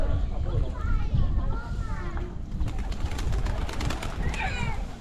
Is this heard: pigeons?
yes